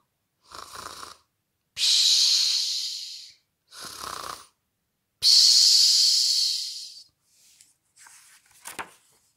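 A voice imitates snoring: two long rasping inhales and shorter snorts alternate in a slow rhythm, close and loud, then fade to faint breathy sounds.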